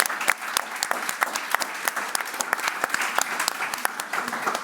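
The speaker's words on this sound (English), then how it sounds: "we should all give another big round of applause to Tobias and the dream team of the MASI Lug" Audience applause at an art gallery talk, steady dense clapping from a crowd, moderately loud and continuous without voices on top.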